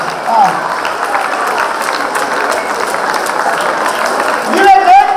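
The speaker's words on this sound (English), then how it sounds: "Give a great clap." An audience at a regional school chess tournament claps steadily through the whole stretch, with voices talking over it and a brief whistle-like tone near the end.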